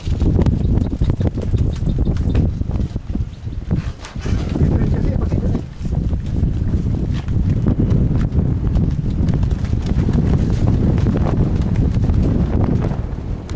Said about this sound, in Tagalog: ganyan kalakas ang hangin